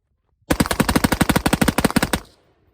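An AR-15 rifle fitted with a Fostech Echo trigger fires a rapid burst of about twenty loud, evenly spaced shots outdoors, with the echo fading out after the last round.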